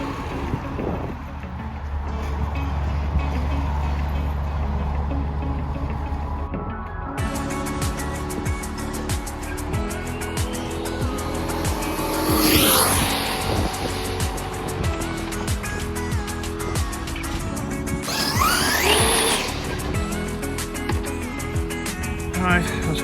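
An FG Sportsline RC car with two-speed gearing runs steadily, its engine note rising and shifting as it changes gear, with a loud, continuous drone and a couple of revving swells.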